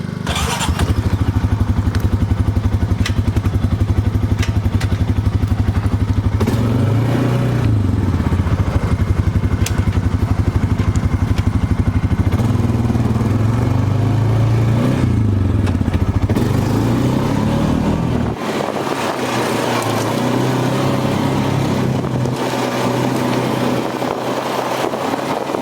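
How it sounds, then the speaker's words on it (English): A four-wheeler ATV motor drones loud and steady as it drives a bumpy trail through the woods, pitch rising and falling with throttle, with clattering thumps from rough ground before the engine note drops near the end. "we're going to take the four-wheeler around the woods here"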